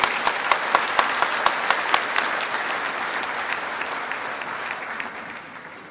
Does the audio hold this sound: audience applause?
yes